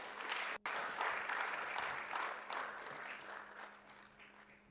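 Hall applause at a logistics and transport association launch and award ceremony: sustained clapping from a crowd that starts full, breaks for an instant, then gradually thins and fades.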